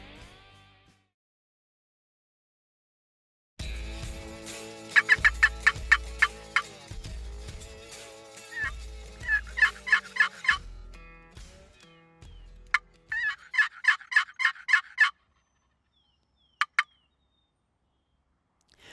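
Rio Grande wild turkeys in Starr County gobble and call in bursts of rapid repeated notes, some loud and close, others fainter, with pauses of quiet between calls and no talking.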